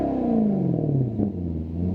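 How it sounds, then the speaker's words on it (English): A Maserati GT Coupe's naturally aspirated V8 revs and then winds down, its deep exhaust note sliding lower over a couple of seconds, close and fairly loud. "I want to give you some exhaust noise of what could be the last naturally aspirated engine"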